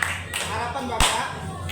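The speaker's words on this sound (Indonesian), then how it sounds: "mari kita sama-sama tepuk tangan ya" Scattered hand clapping from a classroom of students, a few sharp claps standing out over a steady murmur of background noise.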